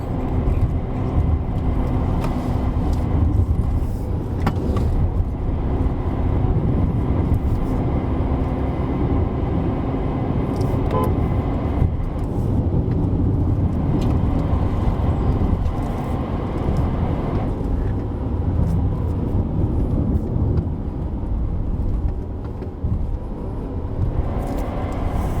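A Proton X70 AWD drives uphill on the Genting road with a continuous loud, low engine and road rumble inside the cabin that holds steady throughout, with no clear breaks at the automatic gear shifts.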